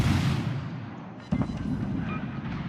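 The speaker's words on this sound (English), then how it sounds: "The Bismarck fires on him." The German battleship Bismarck fires its guns in a naval combat game, a single heavy boom landing midway after a rumbling, windy roar, then fading into a low rolling rumble.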